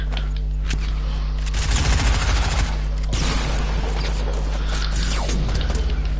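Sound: gunfire in the video game Fortnite

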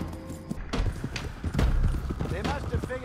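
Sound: horses riding in the video game Red Dead Redemption

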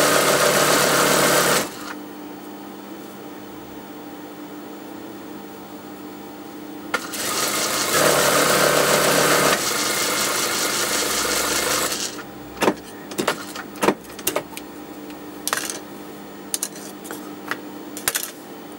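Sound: sewing machine stitching down a maxi dress hemline

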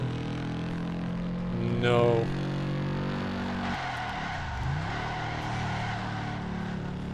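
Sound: car engine in racing video game

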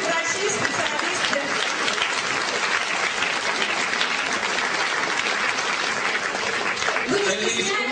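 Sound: audience applause as doctors come on stage

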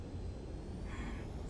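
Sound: fighter jet landing on runway in Ace Combat 7 video game

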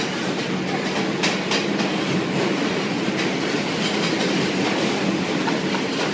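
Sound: subway train passing

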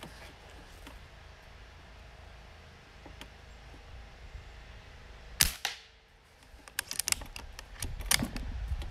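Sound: Diana Stormrider .22 caliber air rifle shots

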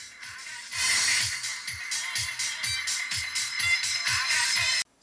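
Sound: car audio horn speakers playing high frequencies

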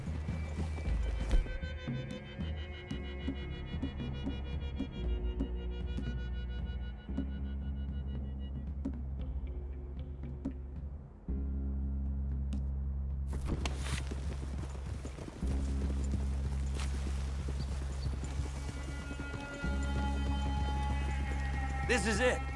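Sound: horses riding in video game Red Dead Redemption 2

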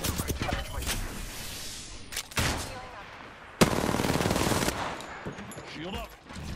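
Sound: gunfire in the video game Apex Legends

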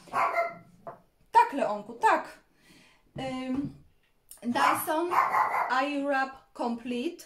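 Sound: dog barking in the background

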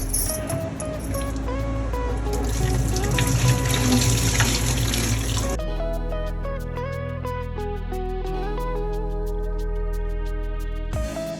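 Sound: water rinsing clay pot

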